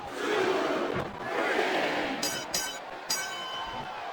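A video game arena crowd in WWE SmackDown vs. Raw 2007 during a Triple H vs Batista match roars steadily, a broad wash of cheering with a few bright metallic clinks cutting through.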